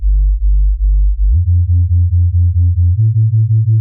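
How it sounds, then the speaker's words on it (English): Deep synth bass for jungle and drum and bass, made in Phase Plant without an LFO, pulsing in a steady stream of short notes, stepping up in pitch twice, with an uneven, detuned wobble between notes. "you'll hear that kind of wobble"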